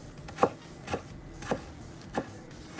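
A knife chops tomatoes into cubes on a cutting board with four evenly spaced, crisp taps about half a second apart, close and fairly quiet with no talking.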